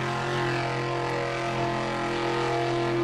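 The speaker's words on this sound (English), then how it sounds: "as you can hear here, the car is not sounding right" A faulty Formula Offroad race car engine drones steadily at an off-road hill-climb event, a continuous buzzing tone with strong harmonics and no clear revving, loud and close throughout.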